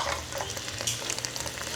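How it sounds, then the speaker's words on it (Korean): Sliced lotus root sizzles and crackles as it is stir-fried with sugar in a pan, a steady close frying hiss that runs throughout with no talking. "이렇게 또다시 튀기듯 소리가 난다면 이제는 불을 꺼주셔도 됩니다"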